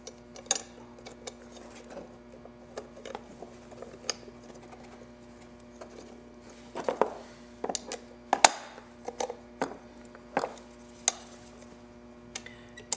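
A large wrench works on a bolt while Arlen Ness LED turn signals are fitted to a Victory motorcycle, giving sparse, irregular metallic clicks and ticks close by, some sharp and louder, over a quiet hum.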